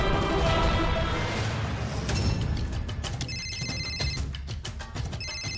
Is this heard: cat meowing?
no